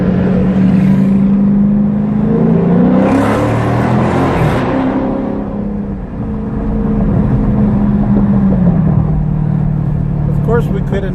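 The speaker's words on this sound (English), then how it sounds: "we couldn't end the video without a little tunnel rev" A Dodge Charger Scat Pack engine rumbles and revs inside a tunnel, deep booming exhaust rising and falling in a couple of throttle blips with echo, loud and close, with some voices over it.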